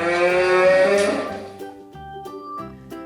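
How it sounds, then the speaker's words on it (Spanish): A cow moos with a drawn-out, harmonic low call at a farm, loud and close, fading after about a second and a half into softer background sounds. "Nos está llamando la vaca."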